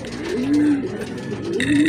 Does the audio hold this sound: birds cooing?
yes